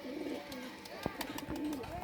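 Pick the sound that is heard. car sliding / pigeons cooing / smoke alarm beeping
pigeons cooing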